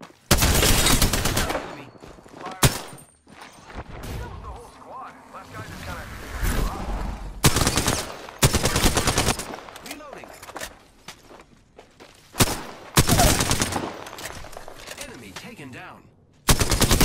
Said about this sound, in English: Hostile close. Shots fired.